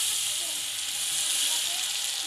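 Turmeric and cumin paste hitting hot oil with reddish-browned fried onions for a bele fish rosha, giving a loud, steady, close sizzle with bright hiss throughout.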